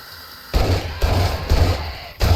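Four heavy, close gunshots ring out in 7 Days to Die inside a Federal Appliance Company building, spaced about half a second apart with a slightly longer gap before the last.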